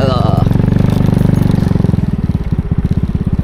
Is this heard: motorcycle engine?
yes